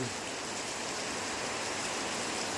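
Rain falls steadily in a dense, even wash of hiss with no breaks or distinct drops, and no one speaks.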